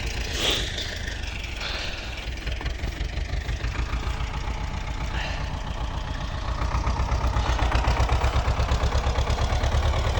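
A tractor engine, a T-25, runs steadily at a low, throbbing idle while stuck and unable to drive out, rumbling continuously and growing slightly louder toward the end, with no voices.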